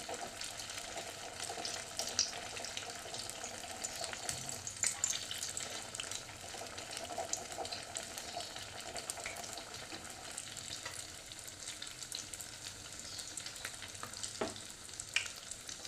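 Chicken donut rings fry in hot oil with a steady, dense sizzle and crackle that runs throughout, with faint scraping of a spoon now and then.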